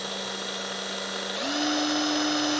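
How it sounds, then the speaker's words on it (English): Power drill boring a hole during the assembly of a Tottoms PRO kit, a close, steady motor whine that rises sharply in pitch midway as the bit speeds up and then holds a higher tone. "We're going to drill a hole through there"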